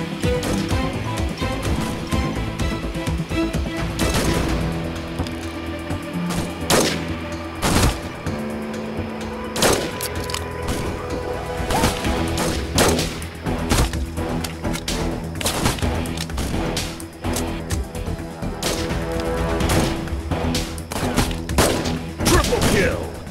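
Rapid sniper rifle fire and explosive booms from the mobile shooter game Sniper Arena: PvP Army Shooter, dense and loud throughout with repeated sharp cracks, thuds and a steady game-music bed, with announcer voice lines between shots.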